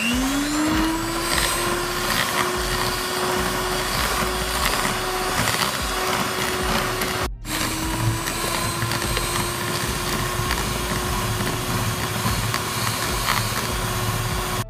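An electric hand beater whirs loud and steady as it mixes cake batter with milk powder, a continuous close motor drone that pauses once for a split second before running on, with no voices.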